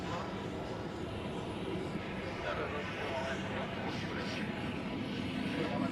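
Swiss airliner on Flight 72 to Washington at Zurich airport, its engines giving a steady broadband roar that holds level throughout, with voices talking faintly underneath.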